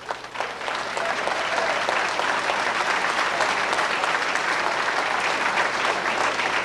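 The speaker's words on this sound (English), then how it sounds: "Let's give them all a big round of applause." Sustained applause from a banquet crowd at a 1990 Highland Speedway awards dinner in Highland, Illinois, steady and dense for several seconds after a brief start.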